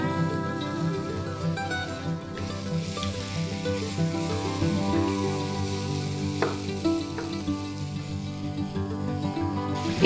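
Curry leaves hit hot oil for sambar, crackling and sizzling loudly and steadily, with a few sharp pops and occasional stirring scrapes.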